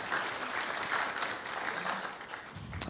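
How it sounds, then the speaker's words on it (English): Steady audience applause in a church gathering, dense and continuous across the clip at moderate volume, with a few brighter individual claps rising near the end. "Yeah, you can give him a round of applause."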